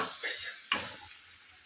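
A sweet mango pickle mixture is stirred in a pan with a gentle sizzle, one distinct scrape of the spoon standing out, close and quiet with no talk.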